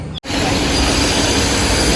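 Inside a moving passenger train, a loud continuous rumble of wheels on rails with a faint high squeal, after a brief cut near the start; no one speaks.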